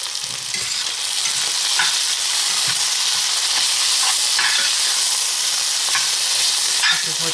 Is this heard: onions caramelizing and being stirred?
yes